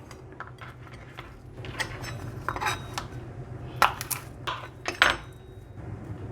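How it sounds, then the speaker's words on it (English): Garlic cloves being peeled in a kitchen while preparing a roasted turkey, heard as soft crackly papery rustles and small clicks, with a few sharper clinks of kitchenware, close and fairly quiet. "Then we're gonna peel the garlic."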